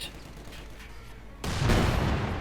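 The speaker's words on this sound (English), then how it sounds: "Machine gun firing." A Comet tank's machine gun fires in Company of Heroes 2. A faint stretch of battlefield noise gives way to a sudden, louder burst of dense gunfire that keeps going to the end.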